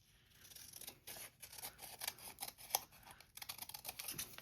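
Scissors cut a paper strip with a series of close, crisp snips and rustles, quiet overall, spaced irregularly with one sharper cut midway, and no talking.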